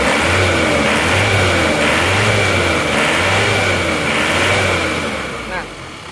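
Close, loud car engine with a new cylinder liner and new piston rings idling with a steady, slightly wavering rhythmic pulse and a faint whine above it, easing off slightly at the end.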